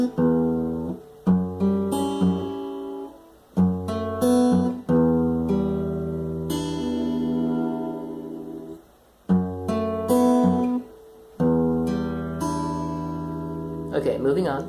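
Acoustic guitar playing a song part, picked string notes rising to the two high strings, in several phrases separated by brief pauses, close and clear with no talking.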